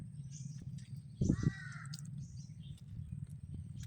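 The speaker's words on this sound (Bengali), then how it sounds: "ওইদিকে দেখতে পাচ্ছি অনেক কাক ডাকতেছে, কেন ডাকতেছে?" Crows give a short burst of harsh caws in a forest, heard once at moderate distance over a steady low background hum, with no talking.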